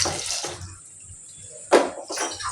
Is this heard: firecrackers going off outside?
no